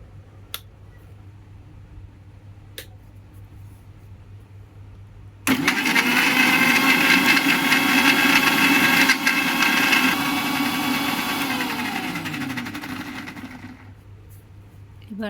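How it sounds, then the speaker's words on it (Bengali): A blender switches on abruptly and grinds a healthy smoothie with a loud, steady motor whine that drops in pitch and fades as it winds down after about nine seconds, following a few faint clicks. "একটু গ্রাইন্ড করে নেব।"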